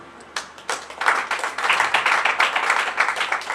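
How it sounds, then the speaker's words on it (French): Applause at a community gathering in honour of a woman called Maman Fifi starts with a few scattered claps, then builds into steady clapping from a modest crowd that keeps going to the end. "vous méritez bien, Madame, ces applaudissements"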